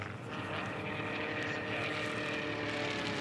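A Formula One class racing airplane at the Reno Air Races drones steadily at a distance, its engine note a continuous, even roar with no break across the short stretch.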